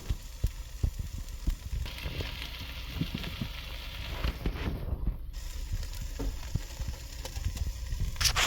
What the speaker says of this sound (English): Let's have a look and listen to the sizzle.